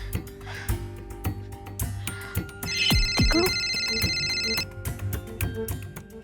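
A telephone rings in a short electronic tone burst during a call, heard amid ticking clicks and scattered background sounds in a room.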